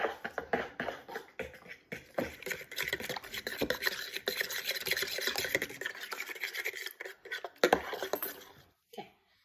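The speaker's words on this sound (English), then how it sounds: "Then we'll mix the other bowl." Waffle batter ingredients being mixed by hand in a bowl, with quick, uneven scraping and tapping strokes that are fairly faint and close, and brief pauses between.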